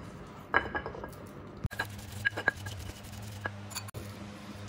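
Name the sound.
grinding spices with mortar and pestle (ulekan)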